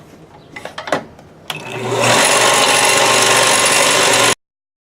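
A forged steel slitting chisel is polished on a 600 grit abrasive: a few faint knocks and handling sounds, then a loud, steady whirring grind starts and runs unbroken for over two seconds before cutting off abruptly.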